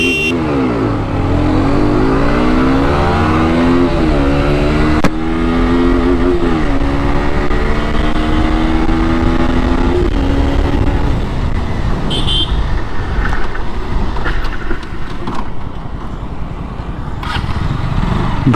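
A Yamaha R15M and a KTM RC125 sport motorcycle accelerate hard side by side in a drag race, their loud, close engines rising in pitch through repeated gear-change sweeps before settling into a sustained high drone.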